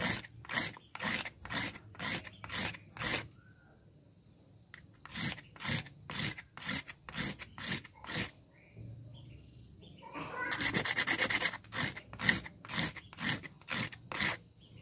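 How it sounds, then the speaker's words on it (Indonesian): Rhythmic rasping strokes of fine sandpaper rubbing back and forth on a Honda Vario scooter's variator roller, close and steady, pausing briefly before resuming with a brief faster scrubbing burst. "lebih cepat mengikis ya kalau langsung amplas halus"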